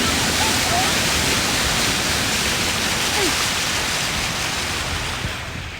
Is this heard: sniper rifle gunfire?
no